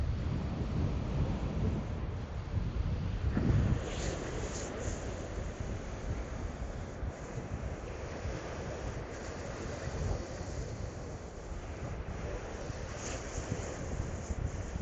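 Chilly wind at 25 to 38 mph sweeps across a Lake Superior beach, a low, constant buffeting roar on the microphone mixed with the wash of surf, fairly faint and without speech.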